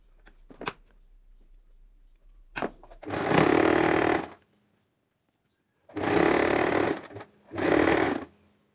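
A sewing machine stitches straight lines along a hijab cap strap in three bursts of close, fast motor whirring and needle clatter, separated by pauses with small clicks of handling.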